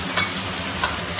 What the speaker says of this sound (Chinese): 锅里先加一点油，油温给它尽量烧高一点，呃，用来跑这个鸡蛋